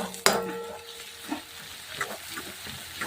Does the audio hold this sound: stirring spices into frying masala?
yes